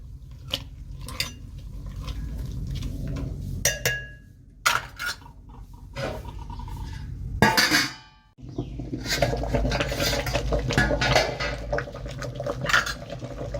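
Tomatoes, onions and spices stirred in a cooking pot, with repeated close clinks and scrapes of a spoon against metal, a few sharp knocks, and a steady bubbling, boiling background throughout.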